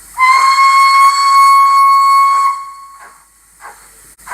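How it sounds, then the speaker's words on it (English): One long, loud steam whistle blast of more than two seconds comes from a Zimo sound decoder fitted in a Dapol Hawthorn Leslie 0-4-0ST model locomotive, followed by a few quieter exhaust chuffs. "F3 is a long whistle"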